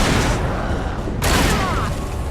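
Gunfire from the video game Alan Wake: a dense, continuous burst of shots fills the scene, loud and close, with a sharp fresh blast partway through and voices mixed in under the din.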